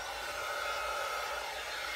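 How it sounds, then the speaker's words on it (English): A heat gun blows over a resin acrylic pour, giving a steady, close airy whoosh with a faint whine, unbroken for two seconds. "the heat gun."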